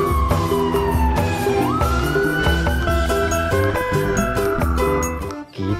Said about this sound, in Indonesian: lihat teman-teman, ada mobil polisi